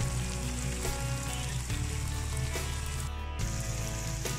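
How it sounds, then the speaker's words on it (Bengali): Green chilies hit frying masala in an egg korma pan and give a continuous, even sizzle with faint stirring scrapes and a low background hum throughout. No voices are heard. "এখন আমি কাঁচামরিচ দিয়ে দিই।"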